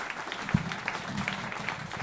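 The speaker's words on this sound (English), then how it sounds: "on l'applaudit bien fort" Sparse, fairly quiet clapping from an audience after a live piano concert at Siam Parc, with a few separate hand claps audible in a short burst.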